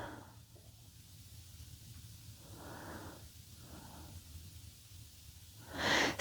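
Slow, soft breaths during a yoga stretch, a few gentle inhales and exhales spaced apart over quiet room tone, with one louder, sharper breath near the end.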